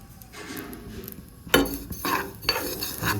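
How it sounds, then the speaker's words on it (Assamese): Sesame seeds are toasted in a pan in a village kitchen, with metal scraping and stirring clinks over a soft dry sizzle, and several sharper knocks of utensil against pan. "ইফালে আমি তিল ভাজো"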